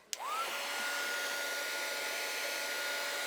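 A handheld heat tool or hair dryer switches on with a click and a rising whine, then blows a steady loud whoosh of air to dry layers of distress ink on a craft project.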